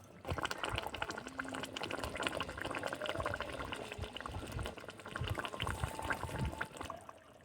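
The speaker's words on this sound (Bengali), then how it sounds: "ঝোলটা ফুটে এসেছে, এবার আমি নামিয়ে নেব।" Rohu fish curry gravy bubbling in a pot on the stove, a steady, dense simmer of popping bubbles and liquid churn that runs close and fairly loud throughout, with no talk over it.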